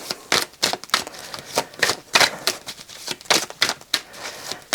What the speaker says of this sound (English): Me and cards do not get on well when it comes to shuffling.